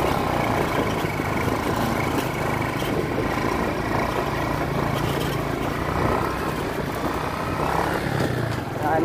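A motorcycle engine runs steadily and close by for the whole stretch, a continuous loud drone with outdoor noise mixed in.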